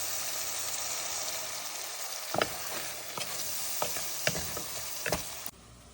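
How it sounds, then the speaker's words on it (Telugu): Onions and green chillies fry in oil for a liver curry with soya leaves, a continuous soft sizzle with a few scattered scraping taps of a spatula toward the end. "ఉల్లిపాయలు పచ్చిమిరపకాయలు నూనెలో కొంచెం బ్రౌన్ కలర్ వచ్చేటట్టు వేపుకోవాలి"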